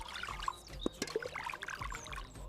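Fresh garden brinjals being washed in water, with splashing, dripping and trickling sounds in irregular bursts, close by and moderately quiet, with no talking.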